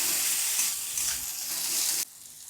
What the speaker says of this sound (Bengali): এবারে যতক্ষণ না পুরটা তেল ছেড়ে যাচ্ছে, ভালোভাবে ভাজা কষানো হয়েছে না হওয়া অবধি এটাকে করব।